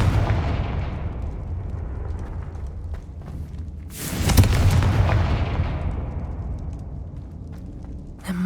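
Confringo blasting spells go off in Hogwarts Legacy with a deep, rumbling boom. A sharper explosion bursts out in the middle, and heavy low-end echoes roll on through the whole stretch.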